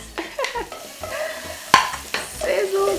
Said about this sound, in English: I'm going to start by sauteing my onions. Can you hear that sizzle, guys?